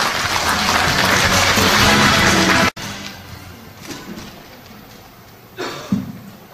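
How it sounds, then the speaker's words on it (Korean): At a book launch event, an audience applauds loudly to welcome a speaker to the stage, the dense clapping cutting off abruptly partway, followed by a quieter room with faint scattered noises. "박수로 좀 모셔볼까요?"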